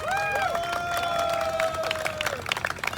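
An audience claps in applause for fire and police volunteers at a public menorah lighting in Southfield. A sustained ringing tone fades out, and a ragged burst of clapping follows, moderately loud and spread across the crowd.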